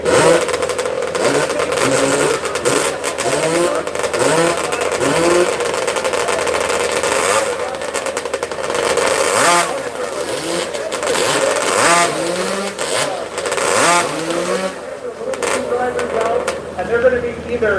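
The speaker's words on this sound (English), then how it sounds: "depending on what they're hearing on that motor when they're revving it up" Chainsaw engines at a woodsmen's field days competition in Boonville, upstate New York, revving loud and continuously with repeated rising and falling pitch, while an announcer talks over the noise.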